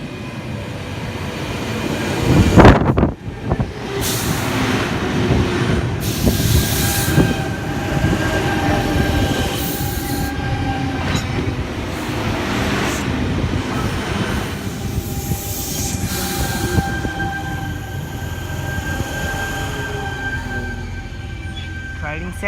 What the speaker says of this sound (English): C1 and C11 now departing Platform 1, City Circle service.